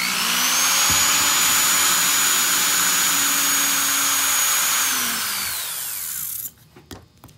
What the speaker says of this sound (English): first we're gonna drill up here.